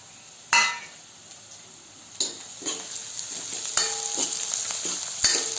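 Spices, turmeric and grated fresh coconut sizzle in a hot pan with a constant frying hiss, and a spoon stirs and scrapes against the metal now and then, with no talking.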